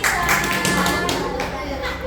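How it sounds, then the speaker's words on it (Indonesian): Schoolchildren in a grade 5 class clap for a group that has just presented, a dense burst of hand claps with some taps and chatter mixed in throughout. "beri tepuk tangan untuk kelompok 3."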